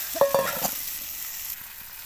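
A fish head dropped into hot oil for a Bengali mung dal dish, a short burst of bubbling sizzle with a couple of sharp spits at the start that settles into a steady hiss, close and fairly loud.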